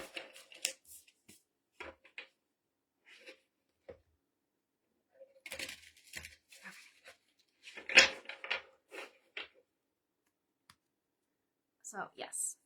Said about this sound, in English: I am about to shuffle the cards and it's going to be a lot louder